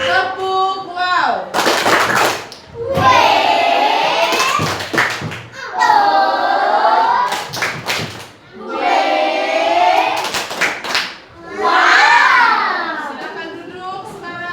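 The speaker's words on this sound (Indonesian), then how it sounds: "Kita tepuk wow untuk mereka." A group in a classroom performs the 'tepuk wow' clapping chant, bursts of rhythmic hand claps alternating with loud chanted voices in repeated cycles.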